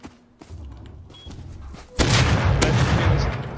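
Video game gunfire: a sudden loud booming burst after a quieter stretch of muffled thumps, followed by sustained heavy rumbling blasts, close and dense, with no clear talk over it.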